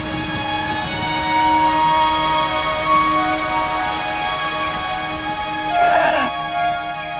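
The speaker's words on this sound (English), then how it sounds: "the rainy season descends on Copan" Rain of the rainy season falls steadily at Copan, a dense, continuous patter of drops with a faint tonal hum underneath and a short louder burst near the end.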